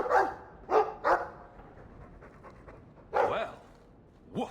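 A dog in the video game Dragon Age 2 barks sharply several times, with a quick pair near the start and more barks later. Panting breaths fill the gaps, and the sound is close and loud, with no speech.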